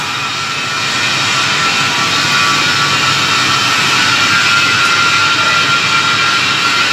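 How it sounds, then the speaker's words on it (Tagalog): An old rolling machine runs inside a busy metal factory during production, giving a loud, steady, broadband roar that holds without pause, with welding and grinding work going on nearby. "So, ito yung sa matandang rolling machine na yun, oh."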